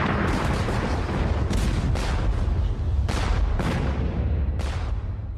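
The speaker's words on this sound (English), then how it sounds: "The Russian Admiral Nakhimov launched an attack using a devastating new weapon: explosive shells." Naval cannon fire from explosive shells in a Crimean War-era sea battle under Admiral Nakhimov: a dense, continuous rumble of gunfire with repeated heavy booms and bursts, loud throughout and with no voices.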